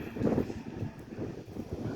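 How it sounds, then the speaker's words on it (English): Breeze gusting over the microphone on a sunny afternoon outdoors, a low buffeting rumble that swells and eases in irregular puffs, close and steady without voices. "I beginning to feel the breeze is picking up. You can probably hear it in the video."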